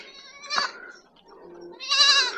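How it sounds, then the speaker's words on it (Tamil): Goats inside a goat shed in the Kolli Hills bleat twice, near and fairly loud, with a quieter low murmur in the pause between the two calls. "இதாங்க ஆட்டு கொட்டாய்"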